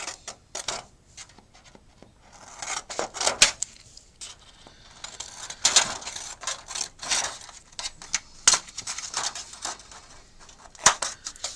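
Scissors snip through brittle shrink plastic charms in quick irregular bursts of small clicks and cuts, close and fairly quiet.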